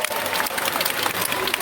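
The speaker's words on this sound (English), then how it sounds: "these people give me a big round of applause" An audience at a classic film festival screening applauds steadily, a dense sustained clapping from a large crowd filling the room.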